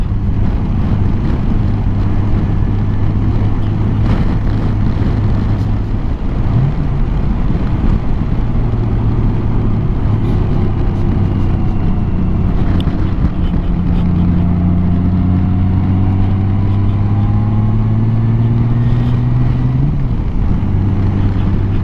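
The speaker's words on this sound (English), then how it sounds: "Knock it down to 5th for a bit of engine braking, and then back up into 6th." Honda Gold Wing GL1800 motorcycle engine droning steadily at close range, with its pitch dropping during engine braking in fifth and then shifting as it changes back up into sixth, under constant wind rush.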